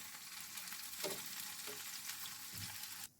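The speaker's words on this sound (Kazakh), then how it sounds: "Мінеки котлетіміз қуырылып жатыр." Cutlets frying in a pan, a quiet steady sizzle with a few soft crackles and stirring sounds, close and alone.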